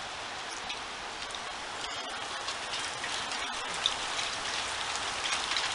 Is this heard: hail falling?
yes